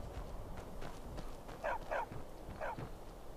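A dog barks in the video game Skyrim, three short mid-pitched barks, two close together and a third a moment later, over quiet ambient background.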